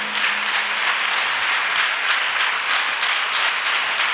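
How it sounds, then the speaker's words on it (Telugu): A church congregation clapping loudly, with sustained applause forming an even, dense roar from start to finish. "కొట్టండి చప్పట్లు గట్టిగా"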